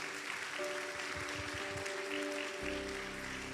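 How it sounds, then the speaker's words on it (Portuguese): Congregation applauding during a Portuguese-language church service, a soft, distant wash of clapping that runs throughout, with low tones and some rumble beneath it. "se você vai aplaudir, aplauda com vontade"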